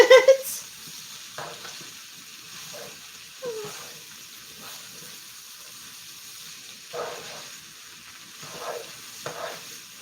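Potatoes frying in a skillet, giving a soft steady sizzle with occasional stirring scrapes and clinks, fairly quiet with no talking.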